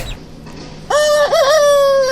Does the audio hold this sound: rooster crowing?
yes